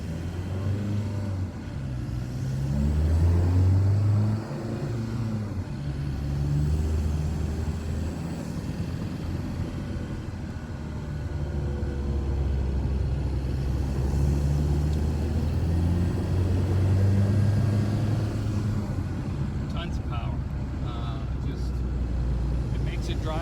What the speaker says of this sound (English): Just taking a little run in the pickup truck. As you can hear, it idles perfectly.